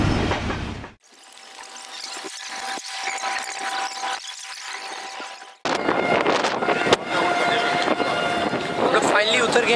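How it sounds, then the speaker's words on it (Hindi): The Karakoram Express passenger train pulls out of Tando Adam Junction station in Pakistan, with a steady rumble of rolling wagons, metallic squeals and clanks. Someone speaks over the noise near the end. "हमारी ट्रेन अब लीव कर रही है यहाँ से"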